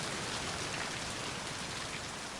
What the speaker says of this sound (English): Assuming that I'm not supposed to just keep it raining all the time